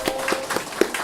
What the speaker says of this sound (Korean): 환영의 박수 한번 해주세요